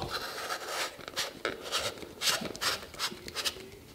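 A camera filter threaded onto its mount: close, soft rubbing and scraping of the threads in short uneven strokes, quiet and with no talking.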